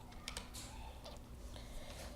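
Keys on a computer keyboard clack in short, irregular bursts while someone types code, faint and close over a steady low background hum, with no voices.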